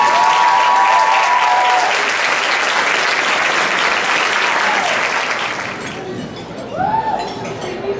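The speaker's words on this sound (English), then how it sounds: "if you could all give a round of applause for Isabel Guillen as she walks out" Loud, dense audience applause as a speaker walks out at a HomeBoy Industries evening event, with glasses clinking and voices underneath, fading after several seconds into chatter.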